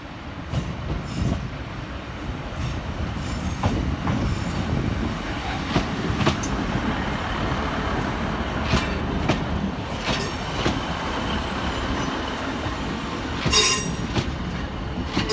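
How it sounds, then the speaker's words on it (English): A Northern class 150 diesel unit pulls into Manchester Oxford Road station with a steady loud rumble, rail clatter and intermittent high wheel squeals, close up and without voices. "Arriving to terminate with a northern service off Liverpool Lime Street is 150-138 and"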